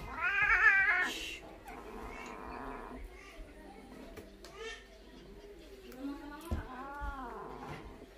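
A Maine Coon cat being bathed with shampoo lets out a loud, drawn-out meow near the start, then softer cries follow amid splashing, with people talking nearby throughout.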